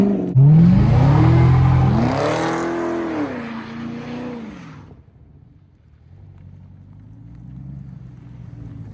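A Cadillac CTS-V doing burnouts and donuts gives a loud, close engine rev that rises and falls in pitch over several seconds, then settles into a quieter idle-like rumble.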